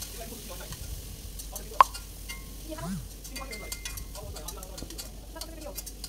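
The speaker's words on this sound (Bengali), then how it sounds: "ওই তেলে আমি পেঁয়াজ কুচি কাঁচামরিচ কুচি দিয়ে দিয়েছি।" Chopped onion and green chili frying in oil in a wok, a steady soft sizzle with a sharp clink of a utensil early on and a few stirring scrapes, with a voice speaking in Bengali over it.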